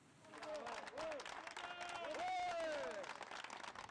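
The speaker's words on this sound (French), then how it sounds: "Des applaudissements et de longues embrassades, voilà à quoi ressemblait la sortie du tribunal correctionnel de Marseille" Faint applause from a small group gathered outside the Marseille criminal court, a soft continuous patter of clapping under overlapping voices and cheering in the foreground.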